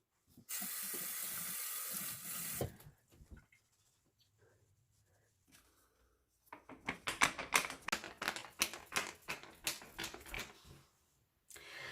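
Tap water runs into a sink in a strong steady hiss for about two seconds, then stops; after a quiet gap come rapid splashing and patting sounds of face rinsing, close and moderately loud.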